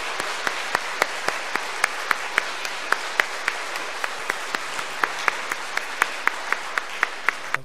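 An audience at a church book concert applauds to welcome a speaker, sustained dense clapping with several sharp, regular claps standing out, close and steady throughout with no voices over it.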